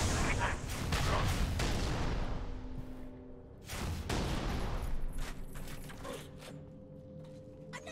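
A Brute Shot grenade launcher firing in Halo 3 ODST, with heavy booming blasts at the start and again midway, each followed by a rumbling, mechanical tail.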